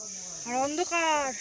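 Crickets chirp along a dark mountain forest trail to Kartick Swami Temple in Uttarakhand, a steady high-pitched trill running throughout while someone speaks briefly over it.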